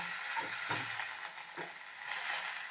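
Radish greens sautéed and tossed in a pan give a soft, steady sizzle with a few stirring scrapes, close by and moderately quiet, with no voices.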